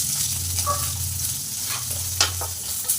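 Small onions frying in oil in a pan, a steady close sizzle with stirring and a few light utensil clicks, no talking.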